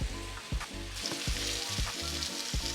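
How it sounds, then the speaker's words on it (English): Pineapple wedges topped with brown sugar fry in butter, giving a close, busy sizzle with crackling bursts and light stirring clatter throughout. "so our pineapple wedges are frying with the brown sugar on them"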